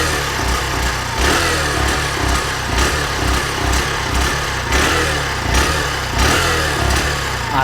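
A Honda Shine 100 DX motorcycle engine runs steadily at close range, its exhaust revving in repeated swells with a slight misfire and rough edge, no voices over it.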